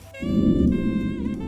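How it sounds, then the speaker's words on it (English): A low, sustained whoosh swells in and holds for about a second, a deep rumbling rush with a faint tonal ring above it. "It's sort of a low whoosh."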